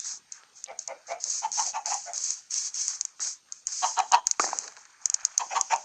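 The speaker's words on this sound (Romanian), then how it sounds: "Acestea sunt găinile" Several hens cluck and chatter close by in quick, uneven bursts, with a high steady hiss running underneath, at a rural spot with rabbits nearby.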